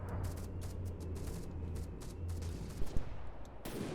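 Gunfire from the rear turrets of the Brokdorf warship in a naval battle video game, a few muffled booms and cracks over a steady low engine rumble, moderately loud and with no talk.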